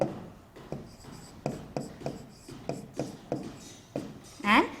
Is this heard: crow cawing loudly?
no